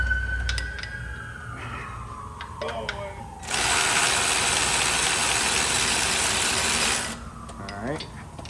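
Ratchet wrench working on timing cover bolts of a 2017 Jeep Wrangler JK 3.6 during a water pump job: scattered clicks and tool clatter, then several seconds of loud continuous whirring from a power tool, close by.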